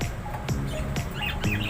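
Month-old bird chicks in a nest give a few faint, sharp chirps and squawks, spaced irregularly over a quiet background.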